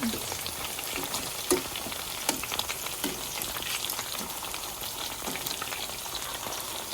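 Steady oily sizzling and crackling of chicken frying in hot oil, with scattered pops and small clatters throughout; no voices.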